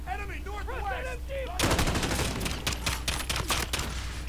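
Rapid gunfire in the Modern Warfare campaign, loud automatic bursts and repeated shots that begin abruptly after a short stretch of voice and continue in a dense rhythmic clatter.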